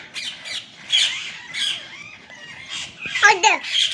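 Parrot squawks in short bursts, several harsh calls scattered through the moment with mixed bird chatter, fairly close; a voice may also be present.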